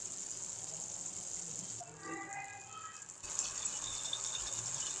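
Water pours from a glass into a cooking pan of homemade Schezwan sauce, a short gushing fill of about a second and a half, fairly close over steady background hiss, with no talk.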